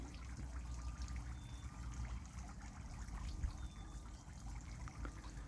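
Garden fountain trickles and splashes continuously at a faint, even level while ducks bathe under it, with no talking.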